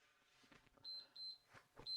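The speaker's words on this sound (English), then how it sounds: "There's the beep." A workout interval timer sounds a series of short, high electronic beeps, three or four evenly spaced tones over quiet background movement.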